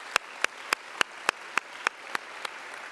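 Nine slow, evenly spaced single claps ring out over a quiet room, a sparse round of applause for a college police department at an all-college day event.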